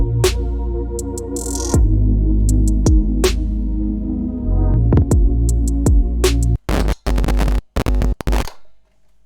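Deep, booming sub-bass notes in a dark R&B beat throb loudly and steadily, with short percussive clicks over them, before the bass cuts in and out in choppy bursts near the end.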